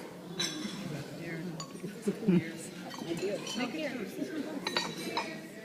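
Glasses clinking together in a toast at a ceremony, several light chinks scattered among the murmur of a gathered crowd talking in the background.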